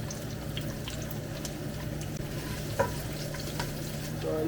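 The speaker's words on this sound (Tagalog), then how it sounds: "Igisa po muna natin itong bawang." Garlic and onions sauté in a pan for ginataang prawns with squash, giving a steady, moderate sizzle with a soft stir or clatter here and there, no voices.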